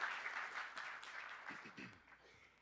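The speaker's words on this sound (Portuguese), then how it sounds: "Por favor, nossos aplausos a ele." Conference audience applauding a speaker as he is introduced, a moderate wash of clapping that gradually thins out over a few seconds.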